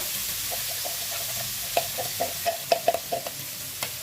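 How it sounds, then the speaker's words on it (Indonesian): Chili sambal is stir-fried in a pan, giving a soft sizzle broken by a series of scraping stirs and clicks of a spatula against the pan, close by and without talk. "Sambalnya ditumis."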